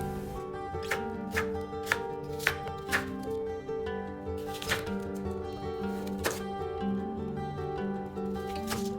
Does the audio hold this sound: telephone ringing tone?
no